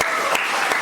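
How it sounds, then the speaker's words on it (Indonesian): Classroom students clapping briefly, a short burst of dense applause with a couple of sharper accents, close and fairly loud. "Iya, tepuk tangan dulu."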